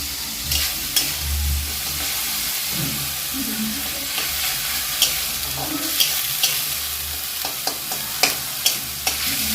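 Onion frying in a pan with ginger garlic paste, a steady sizzle broken by repeated sharp scrapes and taps of a spatula stirring, close and clear.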